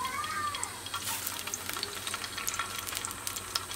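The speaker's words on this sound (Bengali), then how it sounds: "তেলের মধ্যে শুকনা মরিচ," Dried and green chilies, onion and garlic frying in oil for bathua greens, a steady close sizzle with crackles and scattered stirring clinks, no talk.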